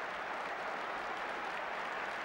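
Rugby league crowd at a 1996 match applauds and cheers in a steady, distant wash of clapping and noise with no pauses.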